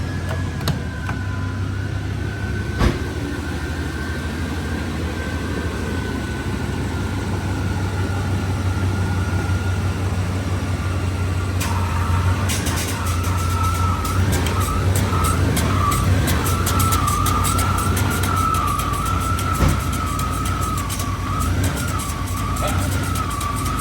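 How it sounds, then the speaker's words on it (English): A Chevrolet Silverado GMT400 pickup idles steadily with its A/C compressor engaged, a constant low engine drone joined by a whining tone that shifts and wavers partway through, all close and without talk. "I'm going to go ahead and start the truck, and I'm going to engage the compressor."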